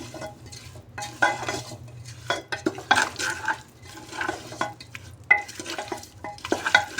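Spiced meat mixed by hand with a wooden stick in a pot, giving repeated close scraping and knocking strokes with a faint sizzle under them. No voices are heard.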